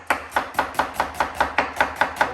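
A knife chops an onion on a board for chicken kebab, striking about ten times in a fast, even rhythm, each cut a crisp, loud thud, close up and with no talking.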